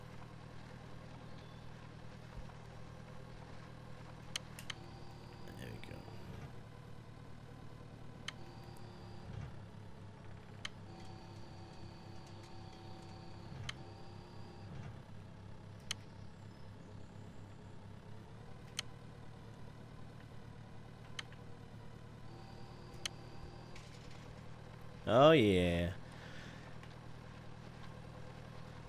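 A Pure Farming 2018 tractor engine hums at a low, steady idle-like drone, faint and constant, broken by small clicks and a brief louder rustle near the end, with a short spoken interjection.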